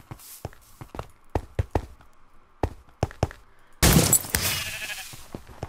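Sheep bleating in Minecraft on the Mineplex arcade server, short repeated bleats and taps spaced irregularly, then a louder noisy burst near the end.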